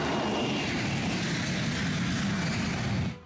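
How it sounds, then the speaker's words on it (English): A Boeing P-8A, the militarized Boeing 737, roars past as a loud, steady broadband jet rumble that holds, then cuts off near the end. "It is actually a militarized version of Boeing's popular 737 commercial plane."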